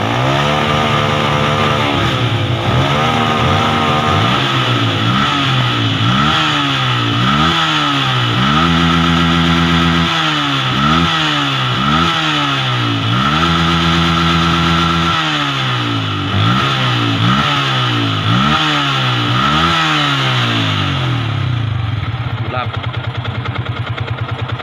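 A motorcycle engine with a charging-regulator fault, worse when hot, runs at close range and revs up and down in steady repeated cycles, with someone talking over it.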